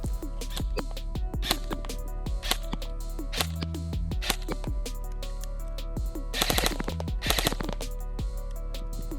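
Specna Arms SA-E10 PDW airsoft replica with a Gate Aster unit firing BBs outdoors, a mix of single shots and short rapid bursts of sharp snapping reports over steady background noise, no voices.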